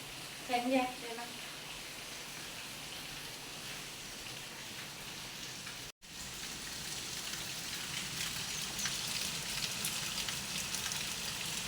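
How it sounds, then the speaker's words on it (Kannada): Steady, dense rain hisses continuously, heavy and close, with a short burst of voice near the start and a brief dropout midway. "ಜೋರು ಮಳೆ ಬರ್ತಾ ಉಂಟು"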